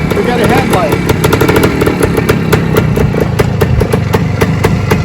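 A 1975 Suzuki TS 185 Enduro two-stroke motorcycle engine runs steadily at a loud, close idle with a rapid even pulsing, continuous throughout with no rise in revs.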